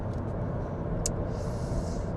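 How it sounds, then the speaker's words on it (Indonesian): Traffic on the Jakarta–Anyer toll road, where many trucks run, gives a steady loud low rumble of passing vehicles with a brief higher whoosh partway through, and no voices. "Di sini jadi bedanya banyak truk di tol Jakarta Anyer ini dibanding Jakarta Bandung."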